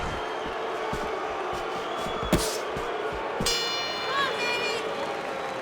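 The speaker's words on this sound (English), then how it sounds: "And the bell rings, signifying the end of the round." A round-end bell rings in the Fight Night Champion boxing video game, a bright metallic ding rising over steady crowd noise and commentary, with a sharp impact just before it.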